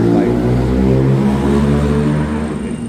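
Loud, continuous engine drone of passing traffic close by on a national highway in the Philippines, a low steady roar that eases slightly toward the end.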